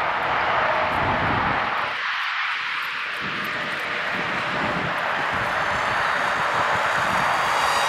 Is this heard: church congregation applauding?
no